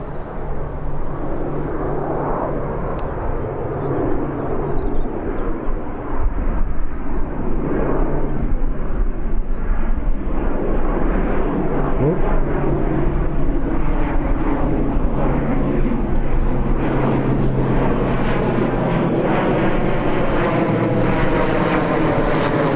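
Boeing 787 Dreamliner at Birmingham airport, its engines giving a steady loud roar with a low hum throughout, no talk.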